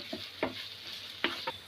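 Onions and green chilies fry in a pan over medium flame, a soft background sizzle broken by a few sharp spatula scrapes and stirs, close and fairly quiet with no talk.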